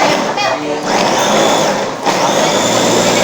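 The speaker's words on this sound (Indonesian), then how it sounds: "Kalian boleh pakai chopper gini, boleh pakai blender ya." A food chopper or blender grinding pineapple with water into a smooth syrup: a loud, steady whirring motor hum running throughout, dipping slightly at a couple of points.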